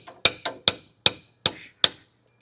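Six sharp metallic hammer blows land close by in an uneven rhythm as an oversized hammer drives a part into place during a Toyota repair. Each strike rings briefly before the next, then the work goes quiet.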